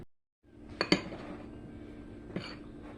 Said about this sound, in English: we're going to stir those up together.